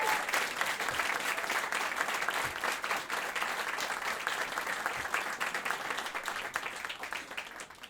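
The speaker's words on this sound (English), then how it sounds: "Give them a round of applause." Sustained audience applause fills a comedy club in New York, a dense, even wash of many hands clapping that holds steady for several seconds without voices breaking through.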